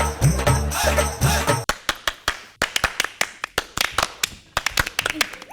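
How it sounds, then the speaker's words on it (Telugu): A man claps his hands on a comedy stage show to summon his wife: a long run of about fifteen sharp, loud claps in an uneven rhythm, following a burst of music and voices at the start. "మీరే కదండి క్లాప్స్ కొడుతున్నారు."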